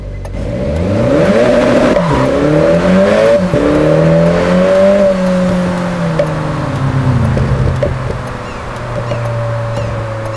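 A car engine in a JDM drift driving game revs hard, pitch climbing through several gear shifts and then holding a loud sustained drone before easing off, close and up front with no talking.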